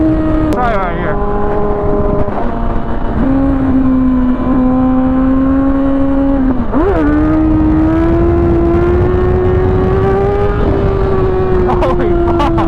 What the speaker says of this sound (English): This bike has no problem like getting up, and it's kind of smooth on the throttle